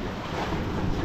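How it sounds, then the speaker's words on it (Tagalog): Strong ocean waves roar against a rocky shore beside a sandy beach, a dense, continuous wash of surf close by with wind buffeting the microphone and no voices. "Narinig niyo yung ano, yung roaring ng malakas na alon."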